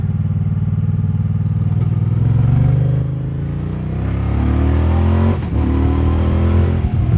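A 2024 Moto Guzzi Stelvio touring motorcycle engine revving under throttle, loud and close, its tone climbing and dipping through a couple of throttle blips with a low throbbing rumble.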